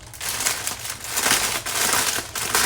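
Plastic packaging from a cheap online clothing haul crinkles and crackles steadily while being torn open to reveal a purple nylon-blend shirt, close and fairly loud, with no talking.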